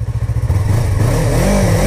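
A 2015 Yamaha R3 two-cylinder motorcycle with an Akrapovic exhaust idles with a close, pulsing burble, then the engine note rises smoothly as it revs briefly.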